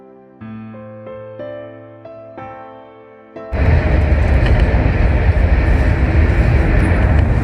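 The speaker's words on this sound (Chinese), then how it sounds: "如今复兴号动车组呼啸通过了一座又一座隧道" Brief melodic notes give way to the sudden loud, dense roar of a Fuxing EMU train rushing through tunnels on the new Chengdu–Kunming railway, a continuous close rumble and rush.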